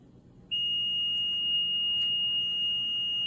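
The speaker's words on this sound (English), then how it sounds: "These are regular alarms" A medical treatment machine's alarm sounds as a single steady, piercing electronic tone that switches on abruptly and holds continuously, loud and close, over a low background hum.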